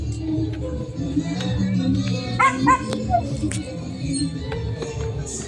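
A dog barks in a short burst of yaps partway through, somewhat distant, under someone talking and background clatter.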